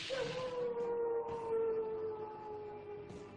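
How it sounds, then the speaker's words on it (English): A coyote howls in one long, sustained, gradually falling wail, clear and alone against a quiet background, with a couple of brief higher yips layered in. "Coyotes howl at the moon to communicate with other coyotes."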